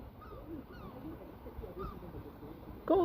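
Seagulls call from a rooftop near a community center in the UK, a few faint, scattered squawks at a distance over background hum, ending with a louder, closer cry.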